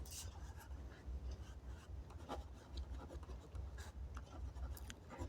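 Chalk or marker scratching across a classroom board during a maths lesson, quiet intermittent strokes and rubbing in short bursts, faint and close.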